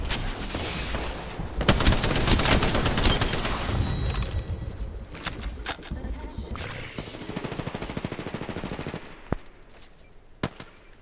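Rapid video-game gunfire crackles in dense, overlapping bursts through the first few seconds, then thins into scattered single shots and sharp cracks as the shooting dies down.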